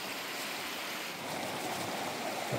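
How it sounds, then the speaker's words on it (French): Steady broadband rushing of a river close by, continuous and fairly loud, with a windy hiss and no speech. "Ça y est, on est arrivé au niveau de la rivière."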